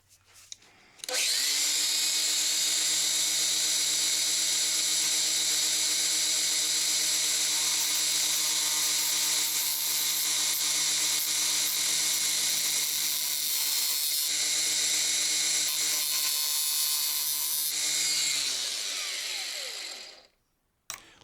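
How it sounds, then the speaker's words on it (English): An angle grinder cutting off a steel drill bit shank glued into a hole in a hand plane, a loud steady high whine with strong even tones that runs for about nineteen seconds before spinning down. "then I can cut it off with the angle grinder"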